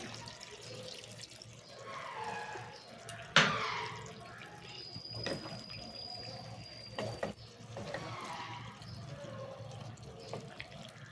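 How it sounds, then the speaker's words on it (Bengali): Water runs from a tap into a sink as a stone bowl used for grinding poppy seeds is rinsed, a steady faucet hiss with splashes and a sharp clink near the start. "পোস্ত বাটিটা ধুয়ে একটু জল দিয়ে দিচ্ছি"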